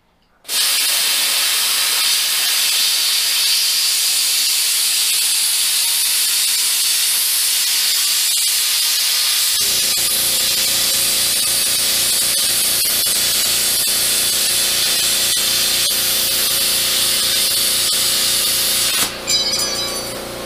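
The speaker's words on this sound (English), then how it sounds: "We'll go ahead and do some cutting." Continuous loud, hissing cutting of metal for a model car belly pan, a steady harsh roar that runs for about twenty seconds with a low hum joining partway through.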